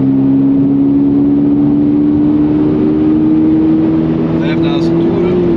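A Toyota GR86 with a manual gearbox downshifts and accelerates on a highway. Its engine drone climbs steadily in pitch under constant road and wind noise, without talk.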